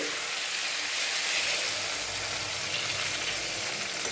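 Water poured onto frying taro (gathi kochu) curry sets off a loud, dense, steady sizzle that hisses on without a break, close up with no talking.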